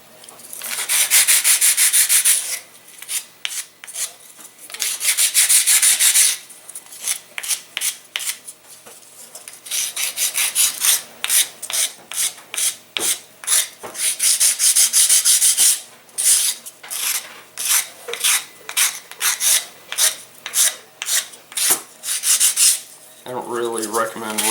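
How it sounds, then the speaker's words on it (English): Wooden parts for an R/C boost glider are lightly sanded by hand, with close rasping strokes that come in long passes and then quick repeated back-and-forth rubs. "Now you can give this a light sanding just to make it all look cute"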